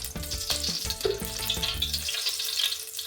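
Oil sizzles in a hot pan for chicken curry with a steady crackle, while a faint clanking and droning hum run underneath.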